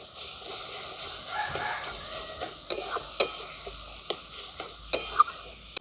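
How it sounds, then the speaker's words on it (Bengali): Ginger and green chili paste sizzles in a pan with onion and tomato, a moderate steady frying hiss broken by several sharp spoon scrapes and taps against the pan, fairly close. "আদা আর লঙ্কাটাকে এই পেঁয়াজ আর টমেটোর সঙ্গে ভালো করে ভেজে নেব"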